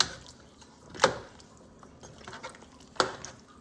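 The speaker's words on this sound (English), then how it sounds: "take the spoon, stir it in" Two sharp clinks of a spoon against a pot of cassava leaf and crabs about two seconds apart, with soft stirring and bubbling in between, close and fairly quiet.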